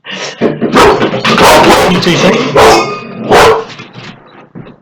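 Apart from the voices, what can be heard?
dog barking at the postman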